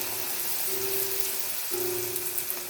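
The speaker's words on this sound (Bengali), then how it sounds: "একইভাবে আরও একটি আমি দিয়ে দিয়েছি এবং হাই ফ্লেমে রেখে এটাও আমি ভেজে নিচ্ছি" Kochuri (puri) stuffed with peanuts deep-frying in hot oil over a high flame, a steady soft sizzle and bubbling hiss that runs continuously without talk.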